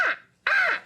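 A man imitates a crow with his voice, giving two loud, harsh, close caws separated by a brief pause.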